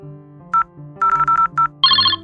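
Telephone ringtone heard while placing a call, a repeating electronic melody of short bright bursts with a brief tonal hum between them, close and clear, with no talking.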